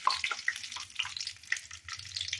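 Whole garam masala spices and bay leaf frying in hot white oil in a kadai, a close, steady crackling sizzle with bursts of popping and spattering throughout.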